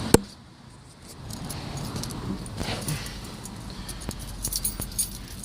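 Car keys with an old plastic key jangle briefly at close range for a 148,000-mile BMW X3, a sharp clink at the start followed by quieter metallic rattles amid low background noise.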